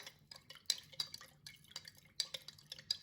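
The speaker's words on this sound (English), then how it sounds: "we're going to use our teaspoon, mix it for the salt to dissolve" Teaspoon stirring salt into onion pickle brine in a glass jar or bowl, quiet, close clinks and scrapes in an irregular rhythm with soft liquid swishes.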